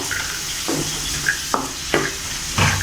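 Cabbage and green peas frying with onion in a hot pan, a steady loud sizzle broken by four regular stirring scrapes of a spatula, close up with no voices.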